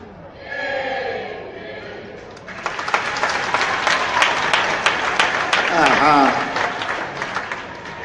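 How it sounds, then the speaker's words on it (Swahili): A church congregation bursts into applause after a spoken voice, with dense clapping that builds, swells and carries on at a steady, fairly loud level. "Makofi kidogo na goma kidogo."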